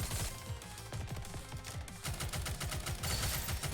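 Rapid burst fire from the mobile shooter NIKKE, a dense, continuous rattle of shots at a loud, even level with no talking over it.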